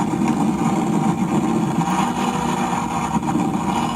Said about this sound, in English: It's another Supra.